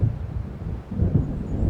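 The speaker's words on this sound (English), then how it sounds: "It seems there's a storm coming." Deep, rolling thunder from an approaching storm in the video game Alan Wake, a loud low rumble that swells, dips briefly and builds again without a break.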